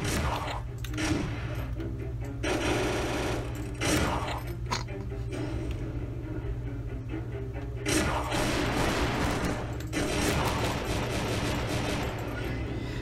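Gunfire in the video game Strike Force Heroes 3 cracks out in repeated sharp bursts and single shots over a constant low game hum, some shots clustered in rapid volleys, loud and close.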